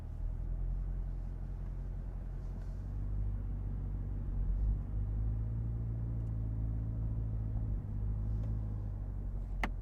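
A 2021 Chevrolet Corvette Convertible Z51 reverses slowly, its engine a low, steady rumble at idle with a faint swell partway through, close by and without talk.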